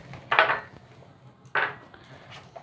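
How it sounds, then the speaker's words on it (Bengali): Malpua batter with milk is whisked in a bowl, giving two short, sharp bursts of metal clattering against the bowl, separated by quiet, close and clear. "এটাকে ভালোভাবে ফেটিয়ে নেব"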